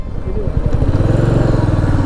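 Motorcycle riding on a hill road near Kathmandu toward Kakani, a loud close engine with a steady throbbing rumble, with people talking over it.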